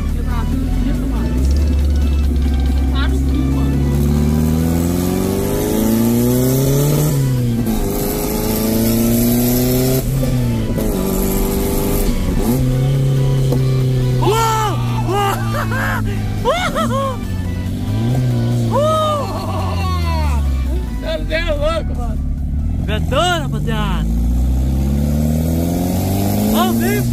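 A car engine revs and accelerates repeatedly, pitch rising and falling in long sweeping cycles, loud and close throughout, with people talking and shouting over it.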